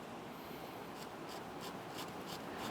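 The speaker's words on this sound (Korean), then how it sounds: "곧 인쇄된 사진을 긁어내기 시작합니다." Ink being scraped off a printed photograph, a steady dry rubbing with faint repeated strokes, close and quiet, with no voices.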